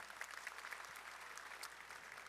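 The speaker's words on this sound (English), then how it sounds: "Another round of applause for Rissalyn Hara." Faint, distant applause from a seated audience at a school class night ceremony, a steady patter of clapping hands that carries evenly throughout without any voices rising above it.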